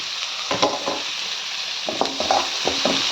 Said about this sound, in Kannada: ನೋಡಿ ಫ್ರೈ ಆಗ್ತಾ ಇದೆ ಚೆನ್ನಾಗಿ ಫ್ರೈ ಮಾಡ್ಕೊಳ್ಳಿ